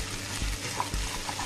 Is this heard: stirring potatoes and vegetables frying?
yes